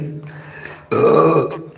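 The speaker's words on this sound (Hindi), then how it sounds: "पानी पीने के बाद डकार क्यों आती है बताइएगा।" A person lets out a loud, close burp after drinking water, starting as a low rumble and swelling into a longer throaty belch.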